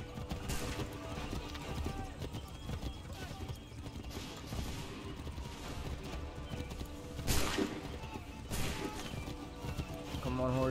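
Horse hooves clip-clop in a steady galloping rhythm in the video game Assassin's Creed III, with occasional whinnies and a busy game soundtrack, while voices speak over the ride.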